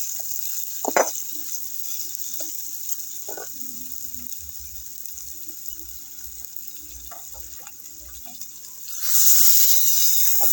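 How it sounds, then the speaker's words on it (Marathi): Frying bombil curry sizzles quietly in a pan on a wood stove with occasional taps, then water poured in near the end brings a sudden louder, steady hissing rush. "आपल्याला थोडं पाणी वतावं लागेल."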